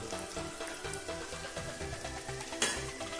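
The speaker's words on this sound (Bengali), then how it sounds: "আমি মশলাটাকে ভালো করে পাঁচ সাত মিনিট কষিয়ে নেব" Spice paste of cumin, turmeric and coriander powder sautéing in a pan for a vegetarian mock-fish dish, a steady low sizzle with scraping stirs and a brief sharp clink near the end.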